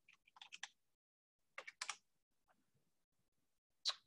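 Typing on a computer keyboard, with short bursts of crisp key clicks separated by pauses, close and fairly quiet.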